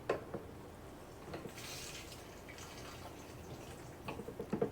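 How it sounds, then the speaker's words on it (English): Fuel dripping from the hose of an automatic fuel transfer pump, a handful of faint, sparse drips with a soft liquid trickle against a quiet background hiss. "Shake that, just kind of let it, make sure it drips out."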